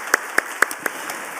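A church congregation claps briefly at a Sunday service, a handful of sharp, separate claps spaced out rather than sustained applause, moderately loud and with no voices over them.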